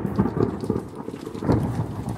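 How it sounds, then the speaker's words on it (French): Rain starting to fall as a thunderstorm rolls in, with patters of drops on a surface over a low, rumbling wash of thunder, loud and continuous across the brief stretch. "La pluie commence à tomber."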